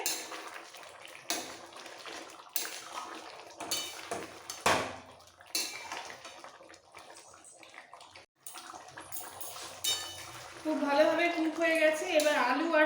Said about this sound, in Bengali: একটু মিক্স করে দিতে হবে